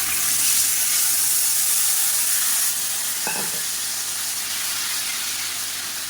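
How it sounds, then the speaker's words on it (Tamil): Strained tamarind water poured into a hot pan of spice mix for temple-style puliyodharai sets off a loud, continuous sizzle and hiss that gradually eases, with no talking. "இந்த புளி தண்ணியை சேர்த்துக்கலாம்"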